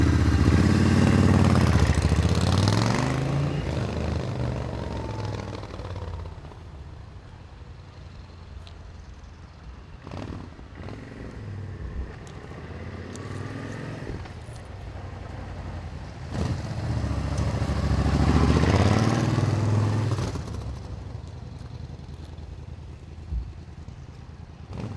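Engine of a low-mileage 1994 Suzuki Intruder 1400 motorcycle rumbling loud and close, swelling twice as it passes by on a street, with quieter idle-like stretches between the passes.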